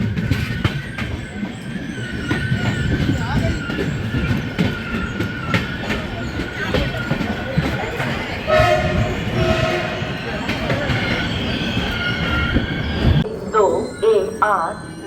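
The Mahakaushal Express rolls into a platform at an Indian railway station with loud rumbling and rhythmic clickety-clack of its wagons, some squealing wheels and a brief horn, under a station announcement.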